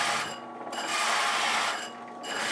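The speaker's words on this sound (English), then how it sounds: "Changing back to the larger hole saw, line it up in the shallow groove and finish drilling it out." A larger hole saw cuts through a wooden shield blank from the second side, giving a steady rasping, grinding drill noise with a brief dip partway through, with no talking.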